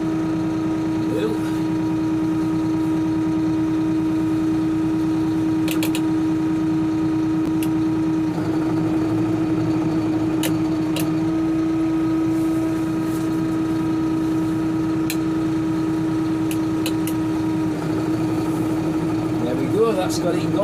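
A small engine runs steadily at idle after starting, its even mid-pitched drone holding for about twenty seconds while people talk over it.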